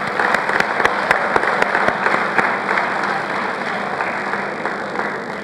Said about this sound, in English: we should clap for them